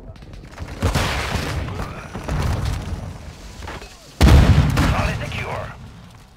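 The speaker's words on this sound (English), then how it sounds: "Friendly cruise missile deployed." Cruise missile strike explosions in Call of Duty: Modern Warfare 2 multiplayer Domination, two heavy booming blasts, the second sharper and louder, mixed with battle noise and voice callouts.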